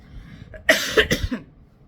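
A single close, harsh cough with a few quick bursts that trail off, loud and alone with no speech around it.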